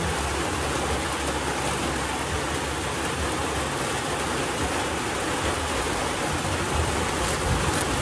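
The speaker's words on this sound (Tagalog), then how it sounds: "It's raining." Steady afternoon rain pours down continuously, a dense even hiss of drops on surfaces without a break, with no voices over it.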